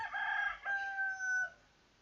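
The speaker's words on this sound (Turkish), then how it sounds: "Anladık sensin Horoz." A single rooster crows once, a short, fairly faint cock-a-doodle-doo that fades out after about a second and a half.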